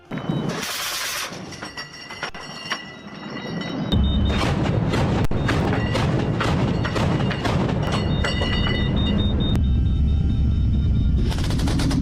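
A Bushmaster naval cannon on a Philippine Navy ship fires in a rapid, continuous burst of loud heavy thuds that merge into a dense roar after a quieter lead-in of mechanical noise.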